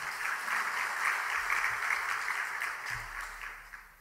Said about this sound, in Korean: 우리 하나님 앞에 영광의 박수 한번 돌리시겠습니다